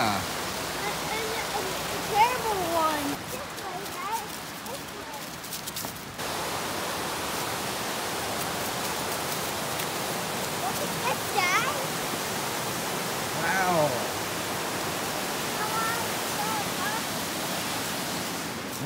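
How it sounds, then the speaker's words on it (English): A waterfall at a park during a hike gives a broad, steady rushing roar throughout, with children and adults talking faintly over it. "Look at the water. That's waterfall!"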